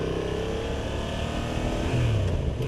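A Honda GB350S single-cylinder motorcycle engine runs in a steady, loud drone with a slight rise in pitch near the end, close and without voices.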